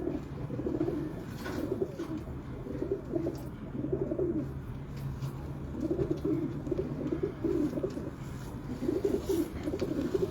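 At a pigeon keeper's loft in Lahore, birds coo in a clear repeating rhythm, each low rolling phrase rising and fading every couple of seconds over a quiet background hum.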